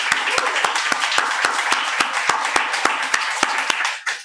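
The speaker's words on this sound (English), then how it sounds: "Let's give a big round of applause to our readers today." An audience claps for readers at a university MFA reading series. The clapping is moderately sized and close, with a few sharp, distinct claps standing out over the rest before it fades at the end.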